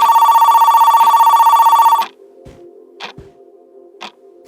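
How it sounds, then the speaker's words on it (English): In a horror video game, a lobby telephone rings loud and close with a rapid trilling bell for two seconds, then cuts off. Sparse clicks and thumps follow in the quiet. "Just then we get a phone call from the 6th floor lobby phone."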